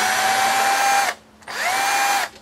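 A power drill backing screws out of a Losi 5ive brace gives two loud, close whirring bursts about a second long each, with a brief pause between them and the pitch winding down at the end of each run.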